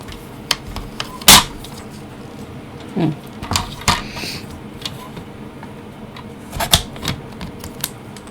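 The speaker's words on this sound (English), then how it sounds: "Just trimming off the edges as well here." Edges of a greeting card are trimmed with a series of sharp, dry clicks and snips, irregularly spaced and close, over a quiet background hum.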